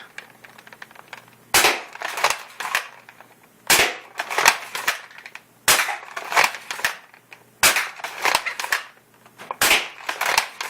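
A Doomsayer toy blaster is test fired in sharp, snappy cap-gun-like shots. Each volley gives several quick cracks, with about five volleys at regular intervals, loud and close.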